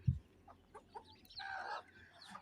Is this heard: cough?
no